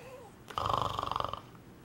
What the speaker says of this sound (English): It's a loud snore.